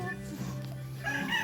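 A chicken clucks and gives a short crowing call outdoors in a rural province, moderately close but faint, with a low steady hum behind it.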